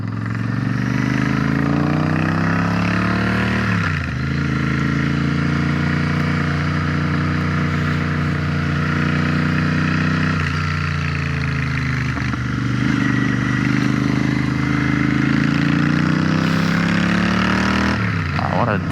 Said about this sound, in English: The Ducati V4, or the Ducati Streetfighter V4, is more bike than I will ever need.